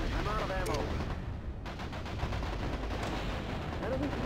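Gunfire rattles through a battle in the MechCommander Gold video game, dense bursts of weapon fire and explosions packed tightly together. Radio-style voices come through over the shooting.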